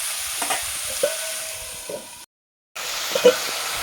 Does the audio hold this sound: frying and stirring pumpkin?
yes